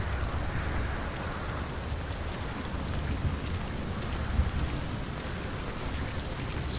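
Steady rain falls in a shooter video game, a soft, even hiss of drops that continues throughout with no voices.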